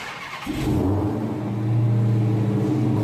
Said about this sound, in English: we're gonna get this baby fired up